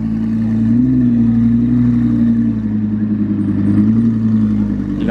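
A loud, deep Ferrari 458 Challenge engine drones and revs steadily at close range, its low rumble holding fairly constant with slight rises in pitch.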